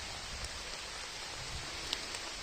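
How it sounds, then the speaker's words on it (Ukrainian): Steady rain patters down in a Carpathian forest as a soft, even hiss, with a few slightly louder drops standing out. "А дощик паде."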